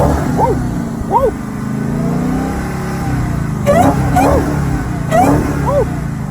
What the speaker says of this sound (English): Let me let y'all hear that whine too.